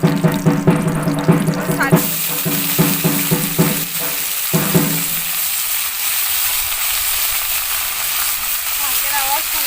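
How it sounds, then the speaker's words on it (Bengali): Leafy greens frying in a pan with panch phoron and green chilli, a steady dense sizzle that runs throughout, with some stirring clatter early on. "পাঁচফোড়ন, কাঁচা লঙ্কা, শাক ভাজতে শুরু হয়ে গিয়েছে"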